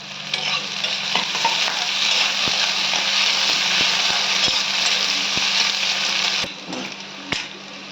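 A green chili sizzles loudly in a frying pan for Ambur chicken fry, with a constant hiss and sharp scrapes of stirring, the frying easing slightly near the end.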